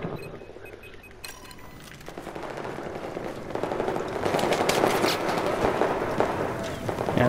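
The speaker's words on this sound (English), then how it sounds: "The AWS has to be pretty good machine gun" Sustained automatic fire from an AWS machine gun in Battlefield 4, building from scattered shots into a dense, loud, continuous rattle amid battlefield noise.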